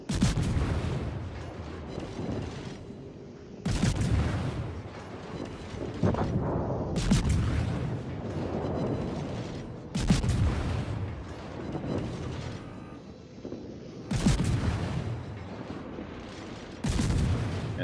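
The guns of the destroyer Akizuki fire in a naval video game as heavy, booming salvos that repeat every few seconds, with rumbling battle noise filling the gaps between shots.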